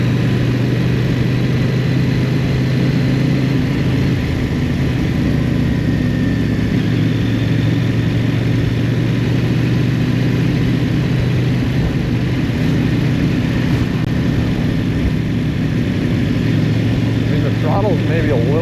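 CF-Moto 800NK motorcycle engine heard while riding, a steady loud mid-pitched drone with wind noise that holds through the whole stretch and barely changes.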